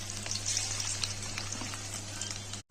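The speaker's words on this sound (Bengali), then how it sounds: "এবার চিকেনগুলো ভেজে নিচ্ছি, সবকটা ভেজে নেবো।" Close, continuous crackle and spatter of chicken pieces frying in oil for chili chicken, a bright sizzle with occasional sharper pops, cutting off abruptly at the end.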